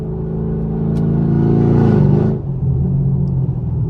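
A Camaro SS with a 6.2L V8 rumbles on the highway, a deep steady engine drone that swells slightly under light throttle, then eases off and settles into a lower hum.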